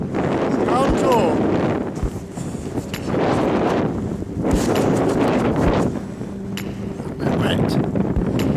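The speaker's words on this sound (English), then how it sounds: "Windy, you can't hear a word." Heavy wind buffets the microphone in loud, rumbling gusts that rise and fall while hiking on foggy Dartmoor, with a voice faintly audible beneath the roar.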